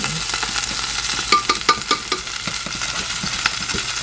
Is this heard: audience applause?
no